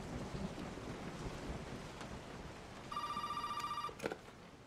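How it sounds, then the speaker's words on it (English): An old telephone rings in Resident Evil 7 biohazard, a loud buzzing ring lasting about a second, heard over a constant bed of rain and rumbling thunder. "And now I'm going to check on this phone."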